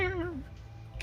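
A voice imitates a weird horse with a brief whinny-like cry that slides down in pitch, close and quick, lasting about a second.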